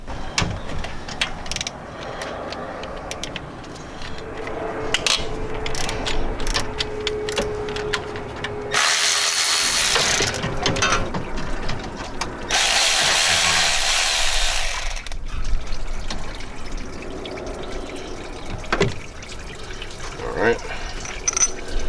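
A socket ratchet loosens bolts on a 2000 Jeep Cherokee water pump, giving off scattered clicks and handling noises with two bursts of bright, rapid ratcheting in the middle, while a person talks throughout.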